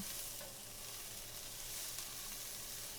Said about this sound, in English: Give it a stir and then let it fry